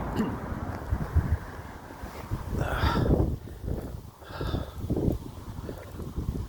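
Strong headwind buffets the microphone with a steady low rumble and gusty roar, rising and falling, with faint indistinct sounds over it.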